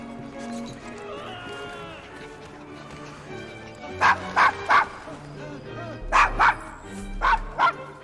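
A dog in Assassin's Creed Syndicate barks in two quick bursts of three sharp, loud yaps, heard over background game music and ambient street sound, with a voice speaking briefly before the barks.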